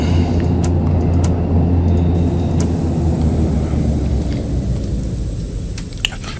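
Turboprop engines of an ATR 72-500 airliner in a flight simulator game winding down after the throttles are cut, a loud steady low rumble that gradually fades, with a few faint clicks and a brief knock near the end.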